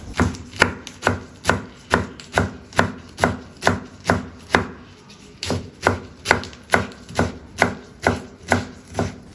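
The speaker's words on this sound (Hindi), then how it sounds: "अब इसे बिल्कुल पत्तों के साथ बारीक बारीक काट लेंगे।" A knife finely chops fresh spinach leaves on a board, with about twenty sharp, evenly spaced strokes in a steady rhythm and one short pause, close and loud, with no talking.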